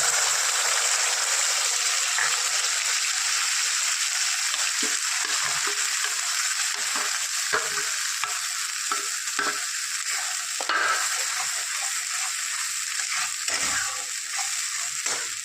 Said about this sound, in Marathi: आता मी हा दळलेला मसाला परतून घेते